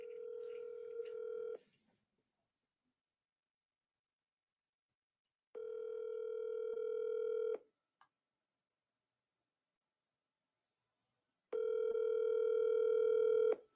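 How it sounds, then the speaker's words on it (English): A telephone ringback tone sounds while a call is placed, three evenly spaced buzzing bursts of about two seconds each separated by silence, clear and fairly loud, with no talking. "Let's get Saw on the phone"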